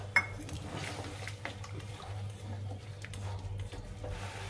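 Water and mustard paste are added to a cooking pan in a home kitchen. Quiet liquid splashing and soft bubbling mix with light utensil clinks over a steady low hum.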